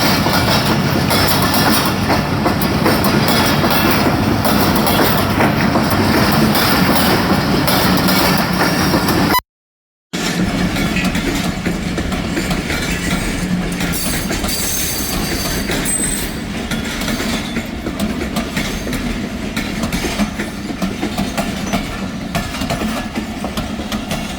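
A train rumbles steadily through Faisalabad railway station in Pakistan, wheels clattering and squealing on the rails, loud and close, with a brief cut to silence partway through.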